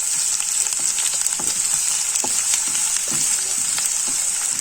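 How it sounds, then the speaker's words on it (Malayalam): Ginger, garlic and curry leaves sizzle steadily in hot oil for prawn pickle, a close, dense, continuous frying hiss with faint crackles and no voices. "ഇനി ഇതിലേക്ക് ഇഞ്ചി ഇട്ട് കൊടുക്കാം വെളുത്തുള്ളി ഇട്ട് കൊടുക്കാം കറിവേപ്പിലയും കൂടി ഇട്ട് കൊടുക്കാം"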